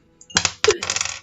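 Skull-marked dice rattle and clatter onto a surface during a tabletop game, a quick burst of sharp clicks that settles within about a second.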